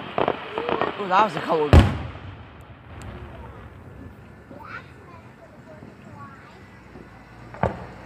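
Fireworks going off outdoors in July, one sharp loud boom followed by fainter distant pops and a later crack, while people chat near the recorder.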